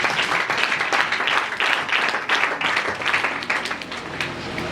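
A church congregation claps and cheers loudly, the applause continuous and energetic throughout, with voices mixed into the crowd noise.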